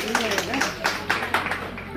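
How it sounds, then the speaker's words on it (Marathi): Audience clapping for prize winners at a women's contest event sponsored by a jewellers, several loose bursts of hand claps with a lively, uneven rhythm, moderately close, mixed with crowd murmur. "आणि त्यांच्या ते सर्वांनी जोरदार टाळ्या वाजवायच्या आहेत."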